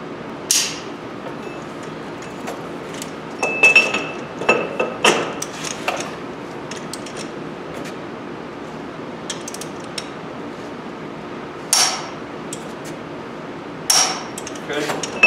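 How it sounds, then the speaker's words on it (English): A torque wrench tightening an axle nut to 200 foot-pounds on a 2009 Ford F750 truck, with sharp metallic clicks and knocks at irregular intervals, some in quick pairs, over a quiet background. "So now I'm going to torque this to 200 foot-pounds."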